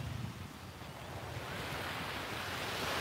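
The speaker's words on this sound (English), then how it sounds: "I love the sound of the waves." Beach waves wash ashore in a steady, continuous surf roar with some wind noise, swelling slightly louder toward the end, with no voices.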